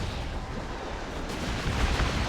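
An explosion rumbles through a battle in the Warhammer 40k strategy game Dawn of War 2. It makes a continuous, loud, broad roar of booming blasts that swells slightly toward the end.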